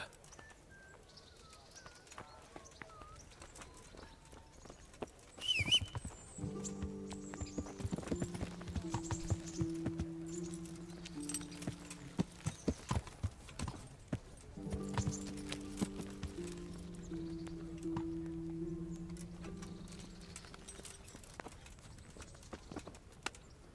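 Horse hooves clip-clop at a steady trot in the medieval game Kingdom Come: Deliverance, with a rhythmic clatter near and distinct, while a voice speaks over it and a horse briefly whinnies.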